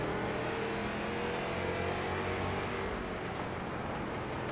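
Race cars roar around an oval track at Langley, a dense continuous engine drone with layered revving tones, loud and steady throughout.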